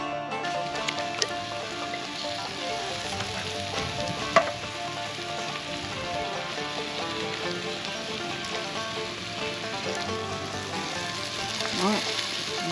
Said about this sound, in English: Added the beef, brown that off